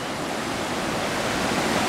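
The Yuba River in California rushes steadily, a dense, even roar of moving water heard up close with no pauses or voices.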